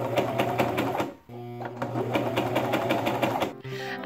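Close, loud sewing machine sewing sleeves onto a dress bodice, running in rapid rhythmic bursts of needle stitching with a short pause near the middle and another stop near the end.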